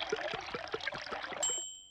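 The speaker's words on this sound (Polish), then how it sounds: "Dziadek pies napełnia bak benzyną." Petrol pours into a car's fuel tank at a garage in a cartoon, a quick series of glugging, trickling pulses ending in a bright ding.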